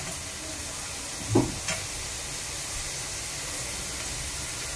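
Nuts and dry fruits frying in a pan with cooked vegetables for semolina upma with curry leaves: a steady hiss of sizzling oil, broken by a brief spoon stir and clatter partway through.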